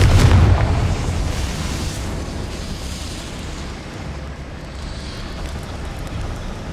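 A Confringo fire spell from Hogwarts Legacy blasts open with a loud, sharp boom, then fades into a sustained low rumble and hiss of debris that trails off over several seconds, with no talking.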